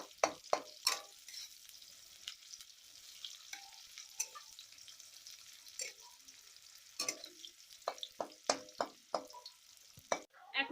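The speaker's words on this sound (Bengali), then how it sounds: "পেঁয়াজটা ভালো করে লাল লাল করে ভেজে নেব।" Chopped onions fry in a pan over a faint, quiet sizzle, broken by repeated sharp scrapes and clicks of stirring that cluster in bursts, with no voices.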